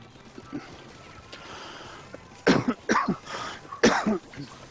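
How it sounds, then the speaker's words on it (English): Several harsh coughs in two quick clusters, fairly close and loud against a quiet background. "Sounds like somebody's getting a cough there."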